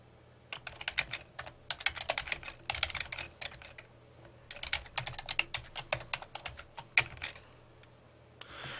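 Quick, uneven keystrokes clatter on a computer keyboard, close and crisp, arriving in bursts of rapid taps separated by short pauses, with no talking.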